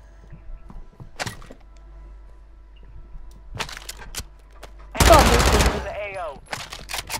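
Call of Duty gunfire: scattered faint clicks and thuds, then a single loud, short burst of automatic fire around the middle, followed by a fading metallic ring.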